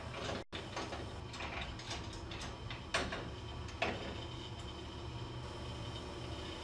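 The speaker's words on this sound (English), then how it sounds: "Roll the press bed through evenly and quickly to the second mark." A lithography press bed rolls through the press, giving off a steady mechanical ratcheting rumble with sharp clicks and ticks from the gears, with no voices.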